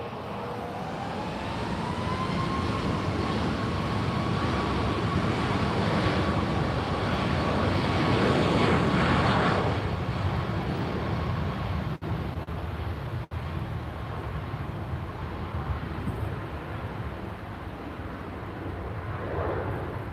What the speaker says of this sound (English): Ryanair about to take off. Do listen to its engine, guys.